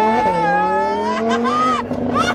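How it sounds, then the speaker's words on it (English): A car with a new exhaust revs steadily with a droning, rising engine tone, close and loud, with brief bursts of voices and noise near the end. "Can I take you just so you can hear the new exhaust?"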